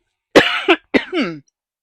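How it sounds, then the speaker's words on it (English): A short fit of coughing: two close, harsh coughs, a pause, then two more rougher hacks with a throaty edge, loud and near, with no one speaking. "I got a little coughing fit"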